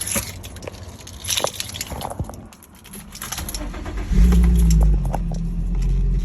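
An Infiniti G35 engine starts, with keys jingling and a click of the ignition first, then a loud cranking catch into a steady idle close by.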